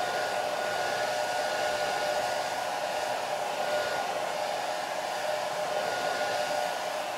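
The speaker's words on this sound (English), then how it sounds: "So we'll blow dry here." A hair dryer blows steadily on wet watercolor paint on paper, a continuous close, loud whooshing hum with no pauses.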